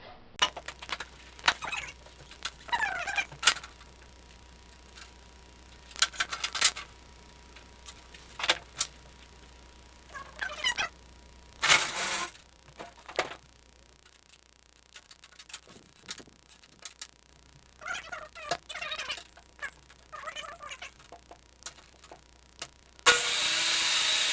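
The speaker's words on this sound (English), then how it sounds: "I'm going to cut the vertical piece first." A saw cuts wooden pieces for the upper supports of a sim racing rig, producing several short bursts of cutting separated by pauses and handling noises, with a low steady hum underneath.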